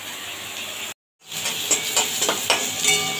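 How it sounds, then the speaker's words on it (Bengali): Sliced onion sizzling in oil in a pan for a Bengali puti fish dish, with steady close frying hiss and a few soft stirring scrapes, briefly cut by a short silent gap. "পেঁয়াজটা খুব হালকা হালকা ভাজা হয়েছে, খুব বেশি ভাজবো না।"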